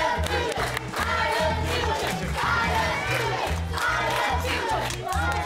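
A loud crowd cheers and shouts excitedly throughout a cooking show season finale, with rhythmic stamping or chanting pulses underneath, steady and close.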